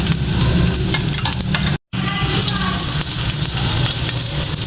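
Finely chopped onions frying for a Turkish soup, a loud continuous sizzle with stirring scrapes and a brief cut partway through.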